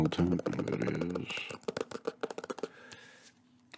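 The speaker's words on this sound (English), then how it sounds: "That's a great typing sound" After a moment of soft talk, a computer keyboard clatters with quick, close, crisp key clicks in an uneven burst before trailing off.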